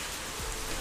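Steady rain falls outdoors in a village setting, an even, soft hiss of drops hitting surfaces with no speech and no break.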